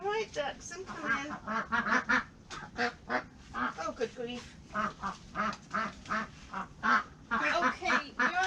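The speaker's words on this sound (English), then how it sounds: "All right, ducks, I'm coming." Ducks quack loudly and repeatedly in dense, choppy bursts close by, with a person's voice heard briefly among them.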